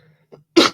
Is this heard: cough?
yes